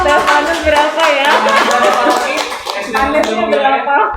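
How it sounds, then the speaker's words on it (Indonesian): Hands clap loudly and in quick succession during a Catholic talk-show conversation, with lively voices talking and laughing over the claps throughout. "Tepuk tangan dulu kali boleh."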